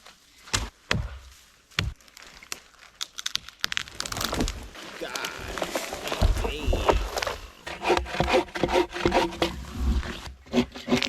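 A spruce tree in a forest is sawn down by hand. A few sharp knocks come first, then rhythmic rasping saw strokes build up, close and steady, with some talking mixed in.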